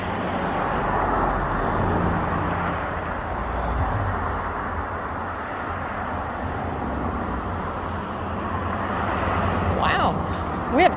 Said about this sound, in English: We have traffic this morning